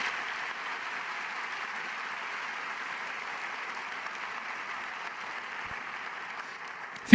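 A church congregation claps steadily as a soft, even, distant-sounding wash of applause that holds for several seconds, with no talk over it.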